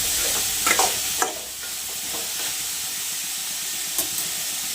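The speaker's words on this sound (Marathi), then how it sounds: "सगळ्या भाज्या असं एकदम व्यवस्थित भाजून घ्यायच्या." Mixed vegetables for momos roast in a hot pan, a steady close sizzle and hiss running throughout with a few scraping stirs of the spatula and no voices.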